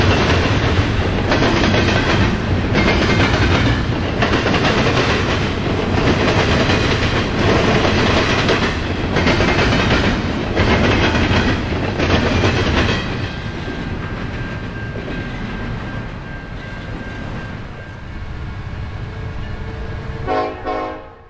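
Union Pacific eastbound freight trains pass JB Tower in West Chicago with a loud, close roar and rhythmic clatter of cars, easing to a lighter rumble with a thin squealing tone before fading out.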